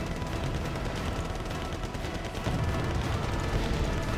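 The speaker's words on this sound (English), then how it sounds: "My Abrams just can't stop firing fast enough." An M1 Abrams tank firing in the war game Wargame: Red Dragon amid a heavy battle, a constant roar of dense gunfire and booms at moderate level with no clear single shots, no talking.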